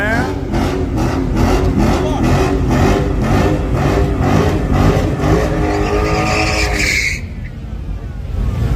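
A turbocharged V6 Ford Mustang revs loud and close, its engine note pulsing steadily for about seven seconds before cutting off abruptly into quieter idle.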